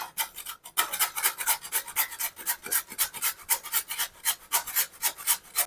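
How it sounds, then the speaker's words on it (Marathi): Peeled potatoes are scraped over a coarse, large-holed grater in quick, regular rasping strokes, close and fairly loud, with a brief pause near the start. "असं जाड होल वाल्याने ग्रेट करून घ्यायचं आहे"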